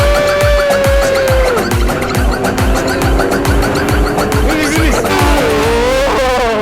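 Superbikes such as a Hayabusa, ZX-10R and Z900 ridden out on a breakfast ride, one engine revving hard and climbing through rapid gear changes during a wheelie, loud and close, with a whining pitch that sweeps up and down.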